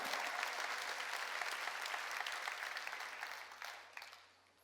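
Congregation clapping at a Korean summer mountain church gathering, a dense burst of applause from many hands that holds steady, then thins and fades away near the end.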